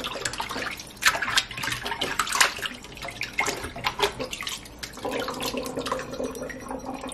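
Limes rinsed under a running kitchen tap, a steady splashing water stream with scattered louder splashes and handling noises, close and continuous with no talking.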